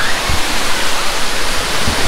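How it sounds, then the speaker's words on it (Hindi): Neer waterfall in Uttarakhand, a loud, steady broadband rush of falling water heard close up, with no voices over it. "ये वाटरफॉल है, पूल नहीं है।"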